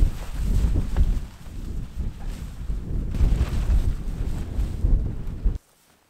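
Strong wind at a wild mountain camp in Wales, a loud steady rumbling roar buffeting the microphone close up for about five and a half seconds before cutting to near silence.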